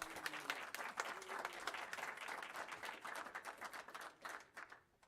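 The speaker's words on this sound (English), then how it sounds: "Can we give her one more round of applause" Applause fills a city council chamber, many hands clapping together in a dense, steady round heard from some distance that thins and fades toward the end.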